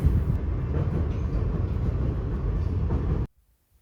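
A steady rumble and rattle fills a moving train carriage, a close, continuous clatter that cuts off abruptly into near silence at the end.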